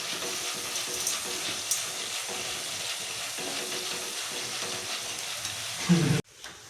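Green chilies for chivda sizzle and crackle steadily in hot oil, a dense, continuous frying hiss close by, ending with a brief louder burst before cutting off.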